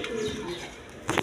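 A pair of pigeons of the Gorra breed in a bird-selling setting, giving a soft, brief cooing murmur close by, followed by a short louder rustle or flutter at the end.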